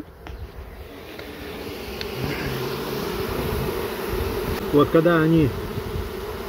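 Honey bees buzz steadily near a hive in the countryside, a continuous close insect drone throughout, with a brief voice speaking briefly over it.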